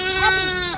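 A sheep on a farm gives one loud, close, wavering bleat lasting under a second.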